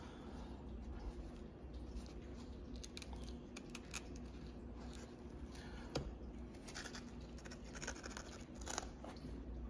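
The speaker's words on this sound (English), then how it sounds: "Kind of wish my scissors were a little bit sharper, but all good." Dull, old fabric scissors chew through shoe material during a sneaker customization, giving repeated close snips and crunching cuts in an irregular rhythm, with no talking.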